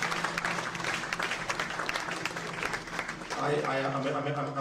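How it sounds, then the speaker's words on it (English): Clapping for police officers at a peace advocacy gathering in Nigeria, loud and steady and full of sharp individual claps, with voices rising over it in the final second. "please can you give yourself a round of applause, please?"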